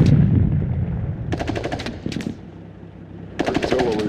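Battlefield gunfire from the video game Sudden Strike 2 rattles in several sharp bursts of rapid shots, separated by short pauses, over a low rumbling background.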